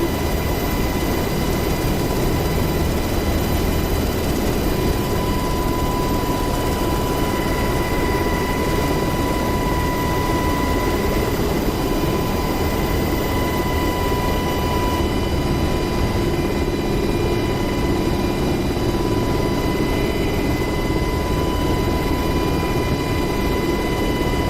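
A UH-60L or AH-64D helicopter in DCS World climbs with a loud, steady engine and rotor roar, continuous and close throughout, with a constant turbine whine and no talking.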